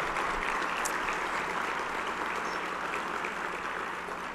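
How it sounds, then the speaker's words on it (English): A large crowd at a mayor's State of the City address in San Antonio applauds, producing a dense, even wash of clapping that holds steady throughout. "Let's give them a big round of applause for their great effort."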